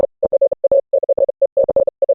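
Morse code telegraph tones: a single steady pitch keyed in rapid dots and dashes, crisp and loud, with short silent gaps between the beeps.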